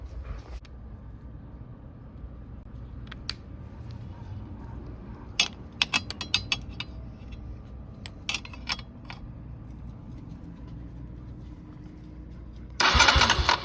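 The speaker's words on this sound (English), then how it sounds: "let's see if it cranks over with spark" Kawasaki KLX 140 dirt bike engine cranking over with the spark plug pulled, a steady mechanical churn with scattered sharp clicks and a louder burst near the end.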